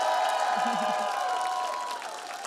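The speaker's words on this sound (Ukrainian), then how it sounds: "Овації глядацької зали." Studio audience applause and cheering for young performers on a television competition, a broad wash of clapping under a sustained musical tone and brief vocal sounds, gradually easing off.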